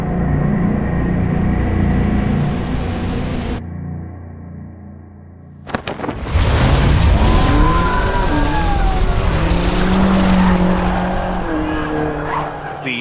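A 6,000-pound BMW XM launches hard from a race start line, engine roaring loud and close, rising through the gears with a brief lull before surging again, tire noise mixed in.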